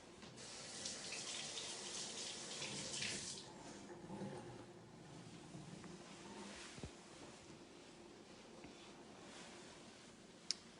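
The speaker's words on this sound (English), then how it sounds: "I'm washing my hands." Tap water runs steadily into a sink while hands are washed, a soft continuous splashing hiss that is strongest early on, then settles lower with a few faint knocks and a sharp tap near the end.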